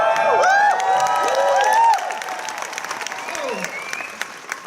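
Convention panel audience at a Marvel 80th anniversary event clapping and cheering, loud hands with whoops and shouts rising above, then easing to thinner clapping after about two seconds.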